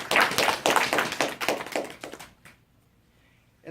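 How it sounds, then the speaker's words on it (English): A room full of audience members claps briskly for about two seconds, a dense patter of hands that stops abruptly into near silence. "Let's give them a round of applause"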